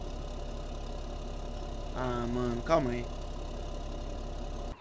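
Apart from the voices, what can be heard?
New Holland T8 tractor engine idling, Farming Simulator 17 video game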